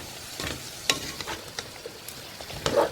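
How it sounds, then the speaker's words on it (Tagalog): Shrimp paste (bagoong alamang) being stirred with squash and drumstick in a pan for Ilocano pinakbet: soft scraping stir strokes and light sizzle, close and fairly quiet, with no talking. "so haluin po natin together with the kalabasa at drumstick"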